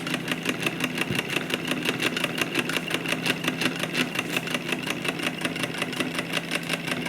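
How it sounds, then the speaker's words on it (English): A small torch-fired solenoid engine runs steadily with a rapid, even ticking pulse over a constant hum, close and fairly loud, with no talking. "I just wanted to show you this beautiful little solenoid engine."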